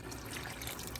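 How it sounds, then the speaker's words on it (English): Water poured from a quart container into a cooking pot over chicken, a continuous close splashing and gurgling stream with no pauses. "I'm going to add more water, enough to barely cover the chicken."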